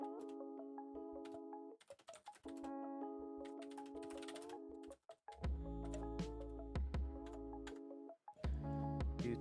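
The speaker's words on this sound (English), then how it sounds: "Typing surprisingly fast for just me." Rapid computer-keyboard typing clicks away in short bursts beneath steady background music, the keystrokes crisp and close.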